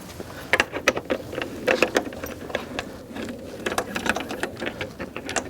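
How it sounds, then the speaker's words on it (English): Hex socket turning out the seat bolts on a 2007 Suzuki GSX-R 1000 motorcycle, a run of small metallic clicks and ratcheting ticks, close and moderately loud, with no talking. "a socket with a hex nut or a hex key on the end for the seat bolts. So let me go ahead and get that undone real quick."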